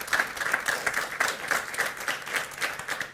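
A church congregation applauds after a sermon, steady dense clapping from many hands filling the room at even loudness throughout, with no voices rising above it.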